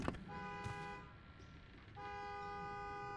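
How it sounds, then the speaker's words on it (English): In a horror video game, a car horn blares in two sustained honks with a short gap between, loud and close over a low background rumble. "Hey, who's honking in my..."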